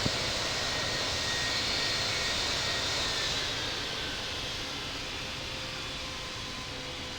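A simulated Allegiant Boeing 737 MAX 8 taxiing to the runway at Chicago O'Hare in Infinite Flight gives a steady, moderately loud engine whine and broad rumble that eases slightly partway through, with no speech.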